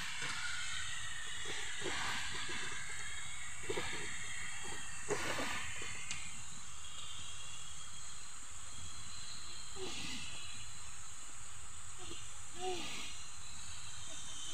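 Banana flower (mocha) frying in a pan for a Bengali mochar ghonto, a steady close sizzle and hiss running throughout with occasional soft clinks of a utensil stirring.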